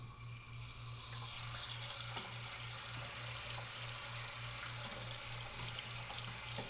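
Water drains from a commercial toilet into a bucket in a continuous splashing, trickling stream with a steady hum underneath, alone and without talk.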